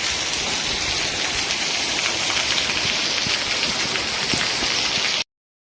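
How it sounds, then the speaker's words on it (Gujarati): Heavy rain pours nonstop in Palitana, a dense, steady hiss of drops hammering surfaces at close range that holds unbroken before cutting off abruptly. "ભાઈ અડધી કલાક થઈ પણ વરસાદ હજી ધીમો નથી પડ્યો"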